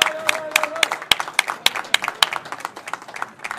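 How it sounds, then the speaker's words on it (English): Scattered applause for two candlepin bowlers at a match presentation, distinct separate claps with uneven rhythm, close by, with a brief tone early on. "a nice round of applause for our bowlers here today"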